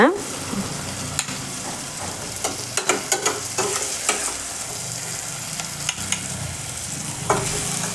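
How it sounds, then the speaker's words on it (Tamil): Onions and tomatoes are sautéed in a pan, with a continuous close sizzle and a run of quick spatula scrapes and clacks against the metal, fairly loud, with no one talking. "வெங்காயம் தக்காளி ரெண்டுமே நல்லா வதங்கிருச்சு"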